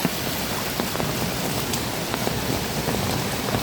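Heavy rain runoff flooding across a farm road beside fields, a dense constant wash of rushing water and pattering drops, loud and close with no pauses.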